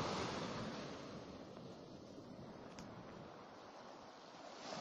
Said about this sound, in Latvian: Tie vīļņi jau viņu met ārā.